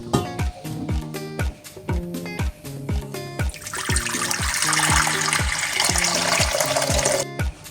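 Several quick, rhythmic clunks and knocks, then a steady rush of running water pouring into a pot for a few seconds before stopping with a clank.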